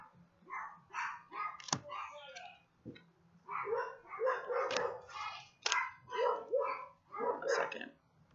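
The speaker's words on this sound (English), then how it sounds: "neighbor's dogs." Neighbor's dogs bark in repeated uneven bursts, a few sharp yips among them, faint and somewhat distant through the whole stretch.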